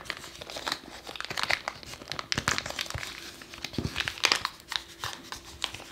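A plastic sandwich bag crinkles and rustles in close, irregular bursts as modelling clay is wrapped inside it, with sharp crackles scattered throughout.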